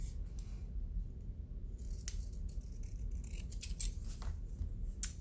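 Scissors snip through a piece of card stock in quick, crisp cuts close by, with brief pauses and faint handling of the paper in a quiet room.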